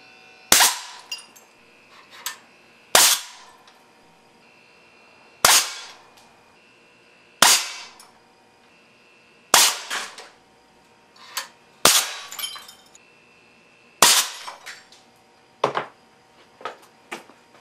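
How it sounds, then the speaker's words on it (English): Air cannon with a 60-inch quarter-inch barrel firing quarter-inch steel BBs, about eight sharp loud shots spaced a couple of seconds apart, each followed by a short metallic clatter of impact. "there's a few shots of 1/4-inch BB"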